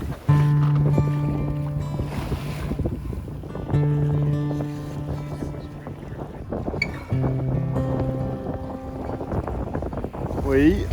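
Wind roars across the microphone aboard a racing yacht under sail in an Australian yacht race, a loud steady rush with gusty swells and tonal hums from the boat underneath.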